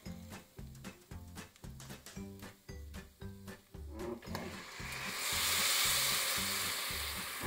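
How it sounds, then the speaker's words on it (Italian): Broth is poured over toasted rice in a pan for a mushroom and pea risotto, setting off a loud, rising sizzle and hiss. Rhythmic stirring or scraping is heard before the pour, and nobody talks. "Adesso andiamo ad aggiungere il brodo."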